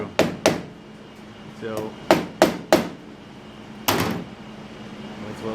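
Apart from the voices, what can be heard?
small hammer punching through rusty car roof metal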